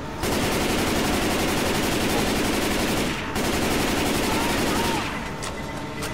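Sustained automatic gunfire with explosive rounds in the co-op video game Left 4 Dead, Crash Course campaign, loud rapid bursts hammering almost without pause, briefly cutting out once before resuming and fading near the end.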